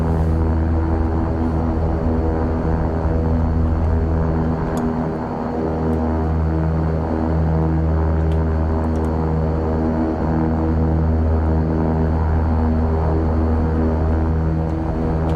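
A King Air 350 turboprop taxiing in X-Plane 11, a loud, steady engine drone with a strong low hum and whine that holds throughout, with no talking.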